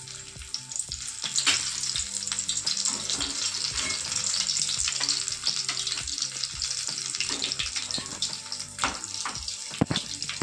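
Raw mango cutlets shallow-fry in a pan over medium-low heat, giving a dense, bright sizzle broken by scattered pops and crackles. The sound stays close and constant throughout.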